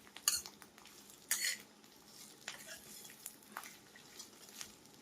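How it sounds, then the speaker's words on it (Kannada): A spoon stirring ingredients frying in oil in a pan, with a few sharp metallic scrapes and clinks over a faint, quiet sizzle and no voices. "ಇವಕ್ಕೆ ಎಣ್ಣೆ ಸ್ವಲ್ಪ ಜಾಸ್ತಿ ಹಾಕಿನ ಫ್ರೈ ಮಾಡ್ಕೋಬೇಕ್ರಿ"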